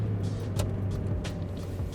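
A car fitted with a Randall style cold air intake runs under load, its steady low engine drone filling the short stretch with a couple of brief airy swells on top.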